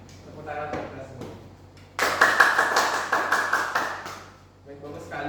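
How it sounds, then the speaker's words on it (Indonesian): Students applaud in a classroom, a burst of brisk clapping that starts suddenly, holds for about two seconds and fades, framed by someone speaking before and after. "Sekarang bisa di tepuk tangan untuk kita semua."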